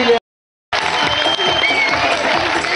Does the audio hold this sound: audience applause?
yes